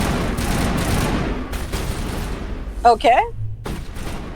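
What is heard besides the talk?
gunfire from Mass Effect 1 guns in video game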